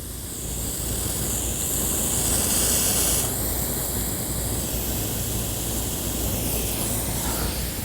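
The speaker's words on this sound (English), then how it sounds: "what that does is just creates more of a spray so that the water isn't going as far." A Hunter PGP sprinkler head sprays water in a steady, loud hissing rush that starts after a brief moment and continues evenly to the end, with no speech.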